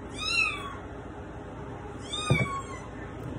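Two drawn-out cat meows, the first near the start and the second a moment later, loud and close with faint background noise between.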